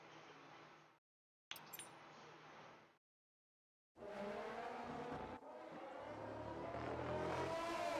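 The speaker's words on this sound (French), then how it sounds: "Je pourrais montrer le son des voitures un petit peu." Race cars roar past at high speed, engines screaming and fading, with brief silent gaps between passes and a faint tire squeal.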